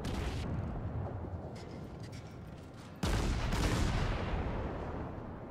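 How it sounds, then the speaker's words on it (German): Heavy naval cannons fire in World of Warships from the cruiser Nürnberg, a deep rumbling salvo boom fading, then a second abrupt loud blast at about three seconds with a long rolling decay. "die Schüsse gehen alle knapp daneben"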